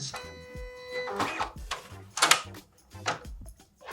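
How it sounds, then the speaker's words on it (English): A printer being switched on for a vinyl-cutting craft project, giving a steady startup tone followed by several separate mechanical clunks and whirs at close range, with no talk. "next we're going to want to turn on this printer"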